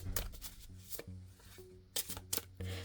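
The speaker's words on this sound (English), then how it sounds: "Let me shuffle real quick." Tarot cards being shuffled by hand in several quick riffling bursts separated by short pauses, close and fairly quiet over a faint steady hum, with no talking.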